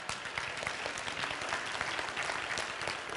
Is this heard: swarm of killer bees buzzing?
no